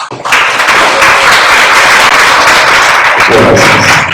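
An audience in a lecture hall applauds to welcome a speaker, loud sustained clapping from many hands close by, steady for about four seconds.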